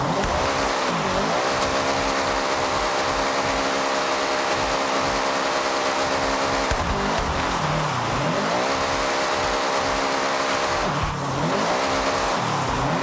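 A roughly 400-horsepower car drifts in Forza Horizon 6, its engine blaring loud and close without pause, revs sweeping up and down in repeated surges, with tire squeal layered underneath.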